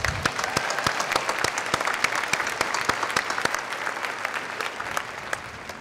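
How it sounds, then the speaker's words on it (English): An audience at a Portland State talk on grassroots climate strategies gives a sustained round of applause, crisp individual claps layered into steady clapping that slowly thins out toward the end, with no talking. "let's give them a round of applause"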